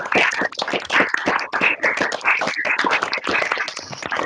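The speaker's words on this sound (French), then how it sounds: "on puisse vous applaudir de façon générale pour ce travail qui a été fait" Students and professors clapping together over a video call, a close, uneven patter of hands from several people that is compressed and continuous throughout.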